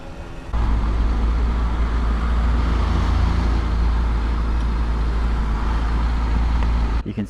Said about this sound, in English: I got these clips of the bike running so you could check it out